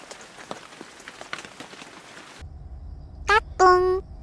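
Steady rain falls at a seaside campsite, pattering on a tarp and tent in a dense, continuous wash before cutting off, followed by a few brief bright tones.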